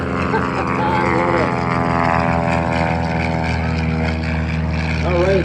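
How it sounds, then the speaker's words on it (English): An IAR-823 propeller airplane passes at an air show, its droning buzz loud and sustained with shifting pitch as it flies by, and voices talk over it. "there's probably your favorite airplane, if you do say so yourself, the IAR-823, followed by a second one"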